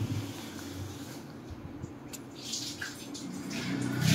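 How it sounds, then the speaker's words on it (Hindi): Water pours into a pot for making Maggi noodles in a home kitchen, a steady splashing trickle that continues throughout and grows slightly louder toward the end. "मैंने यहाँ आधा ग्लास पानी और डाला है"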